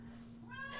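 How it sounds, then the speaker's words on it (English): A kitten in a home kitchen lets out a single faint, rising meow at the very end of a quiet moment, with a low steady hum underneath. "there's a kitten with me in the kitchen"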